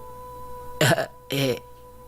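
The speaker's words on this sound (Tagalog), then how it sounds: "Parang hindi nawawala yung ubo mo eh" Two short, hoarse coughs about half a second apart, close by, over a faint steady electrical hum.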